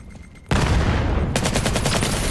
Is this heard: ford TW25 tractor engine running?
no